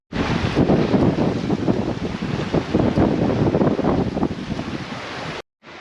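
A squall hits a sailboat at sea during an east-to-west Atlantic crossing: loud, steady wind buffeting the microphone over rushing waves and hull splashes, continuous for several seconds before cutting off abruptly.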